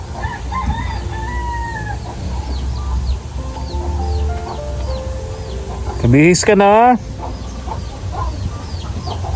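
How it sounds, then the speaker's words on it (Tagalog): Chickens cluck and a rooster crows loudly up close inside a bedroom, with scattered bird calls around them. A voice speaks briefly over the noise. "May mga manok sa kwarto mo, Neng."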